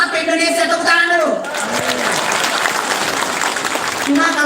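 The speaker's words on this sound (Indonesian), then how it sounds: "Tepuk tangan dulu." A crowd gathered at a garden claps, the applause rising after a brief spoken line at the start and continuing as a dense, steady patter, with another voice returning at the very end.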